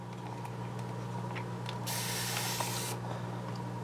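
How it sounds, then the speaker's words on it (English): A spray bottle releases one continuous burst of fine mist, a bright hiss lasting about a second over a steady low hum. "one spray will mist out, and it's very fine mist"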